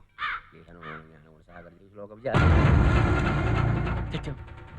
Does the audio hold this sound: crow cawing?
yes